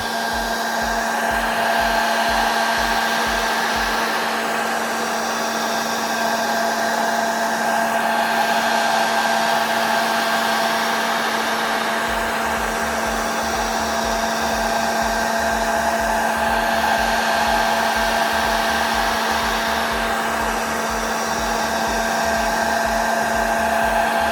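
A hot air tool blows steadily on the screen of an ASUS ROG Phone 2 during a screen replacement, a constant loud whirring whoosh with a fixed tone and a faint rhythmic ticking underneath throughout.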